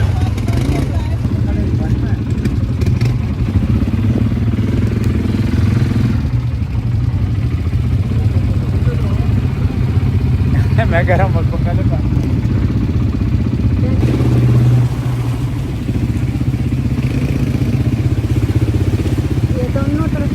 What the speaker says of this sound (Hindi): बाइक हमारी स्टार्ट है ऑलरेडी